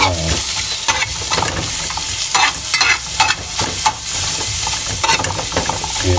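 Onion fries in oil for kangkong with oyster sauce and mushrooms, a loud, close crackling sizzle with bursts of scraping as a spatula stirs the pan, and no voices.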